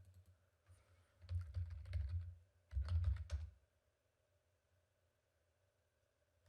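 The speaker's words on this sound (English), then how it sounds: "I don't think you can see what I'm typing, but I'm just typing in" Keyboard typing in two quick bursts of rapid clicking, a couple of seconds each, followed by near silence with faint background hum.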